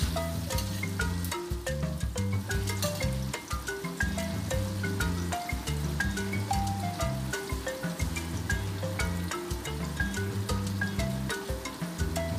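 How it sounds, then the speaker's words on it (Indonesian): Chicken gizzards half-fry in hot oil for a potato and gizzard sambal goreng, giving a steady, dense sizzle with crackling pops throughout, close and loud, with no talk. "ini aku lanjut goreng ampelanya dulu ya"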